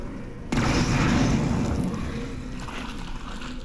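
Explosion in the VR game Half-Life: Alyx: a sudden loud boom hits after a quiet moment, then rolls on as a broad rumbling roar that slowly fades.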